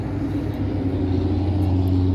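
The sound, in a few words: CFMoto Z-950 V-twin engine with dual-tip muffler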